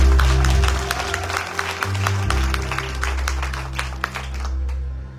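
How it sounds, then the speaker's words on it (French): Guests at a church wedding ceremony applaud the newly presented bride and groom, sustained crowd clapping with a steady dense patter over a low hum, tapering off at the end. "Applaudissez les bien-aimés fortement."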